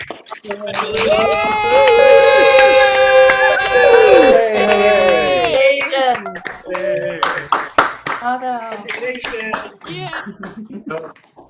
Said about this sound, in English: give our graduating students and prize and scholarship winners a big round of applause